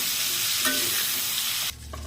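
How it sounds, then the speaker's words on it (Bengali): Prawns fry in hot oil in a pan with a loud, dense, continuous sizzle and crackle, close up, before it abruptly drops away near the end as the pan is moved or the heat changes. "আমি এক থেকে দু মিনিট মাছগুলো ভেজে নিয়েছি"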